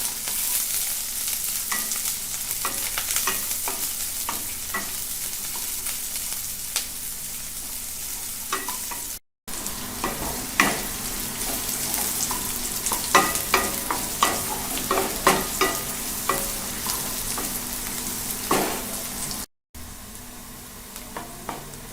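Chopped onions sizzling steadily in hot oil in a pan while a spoon scrapes and stirs them, with frequent close clicks against the pan throughout and no talk.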